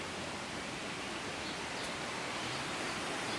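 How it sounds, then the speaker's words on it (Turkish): Water spilling over small cascades between garden ponds, a steady broadband rush that stays even and continuous throughout, close and alone with no talk. "Bunları su bu yavaş aksın diye, ses çıkarsın diye, şelale yapsın diye."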